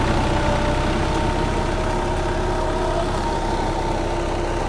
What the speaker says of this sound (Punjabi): ਟਰੈਕਟਰ ਨੂੰ ਵੀ ਜਮਾ ਆਰਾਮ ਨਾਲ ਚੱਲਣ ਲੱਗ ਰਿਹਾ